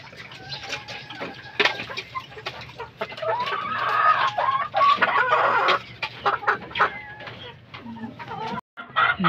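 Fighting-rooster breed hens cluck steadily and close by, with occasional louder squawks, a rooster faintly in the mix and some background voices.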